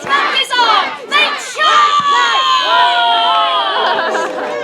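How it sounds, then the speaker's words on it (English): A crowd at a Robin Hood festival joust roars and shouts loudly, with excited voices rising in bursts before swelling into one sustained collective cheer. "The crowd roared!"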